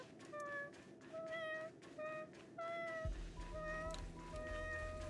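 Small dessert-made cat creatures meowing in the Honkai: Star Rail video game, a rapid series of short high meows in overlapping bursts, with a low hum joining partway through.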